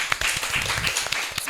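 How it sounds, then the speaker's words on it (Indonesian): A small group claps together in a podcast studio, a short burst of scattered, close hand claps lasting about a second and a half. "Oke, tepuk tangan teman-teman."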